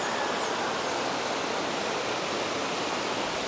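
Rushing water at Three Falls in Santa Maria, Laguna, a steady, dense hiss of falling water that is close and continuous with no other sounds over it.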